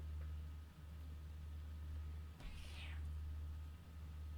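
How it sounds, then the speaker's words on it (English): A cat gives a single brief, rising meow partway through, faint against a constant low hum and background noise. "What do you want, cat?"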